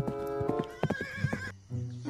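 Horse whinnies loudly over a run of hoof clip-clops, with a high wavering neigh in the middle and a brief pause before the hooves resume, all close and clear with no talking.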